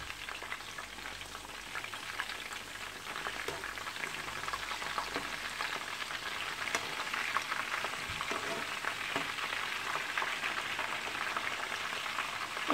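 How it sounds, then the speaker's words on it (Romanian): Zucchini and minced meat patties fry in a pan over medium heat, giving a steady, close crackling sizzle with faint scattered pops and no talking. "Într-o tigaie am pus chiftelele la prăjit, la foc mediu"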